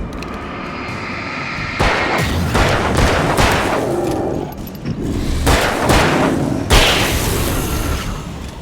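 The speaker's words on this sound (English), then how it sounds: "Oh, that's flashbang." A flashbang grenade goes off in Alan Wake: a sudden loud bang followed by a dense, roaring wash of noise with further booming bursts that swell and fade across several seconds.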